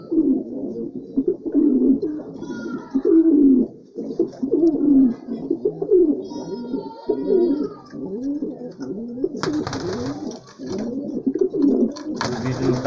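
Bronze pigeons coo steadily and close by in repeated low rolling phrases, with brief chirps overhead and a burst of broadband rustle near the end.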